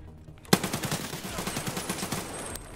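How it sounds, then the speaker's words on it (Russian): Gunfire crackles in the video game Escape from Tarkov, opening with a sharp close shot and followed by a rapid, evenly spaced automatic burst of about two seconds, heard without voices. "Кто это стреляет?"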